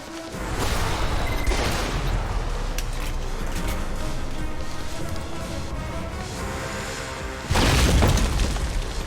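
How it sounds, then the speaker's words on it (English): Loud, dense in-game explosions and gunfire from the Alpha Protocol video game, a sustained barrage of booms and crackling blasts with a heavier burst near the end. "I do the explosions around here, thank you very much."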